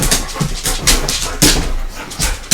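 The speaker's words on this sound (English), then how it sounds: "So those are the dogs." Pet dogs whimper and pant close by in a home, with short breathy bursts and faint whines in an uneven rhythm.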